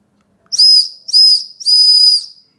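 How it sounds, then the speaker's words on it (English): A small whistle built into the handle of a multitool knife gives three loud, shrill blasts close up, the last held longest, with silence between them. "And here is a whistle."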